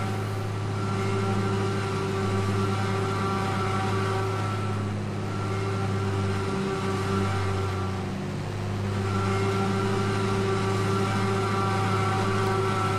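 Simulated tractor engine in Farming Simulator 22, during corn cutting, as a steady, even drone with constant tones, no spoken words.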